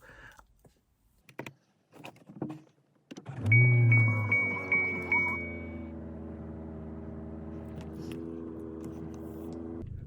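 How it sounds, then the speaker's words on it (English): A car engine starts and keeps running steadily in the background, a low continuous hum with a faint whine, after some brief scattered knocks. "you might hear the car in the background because it just started up again"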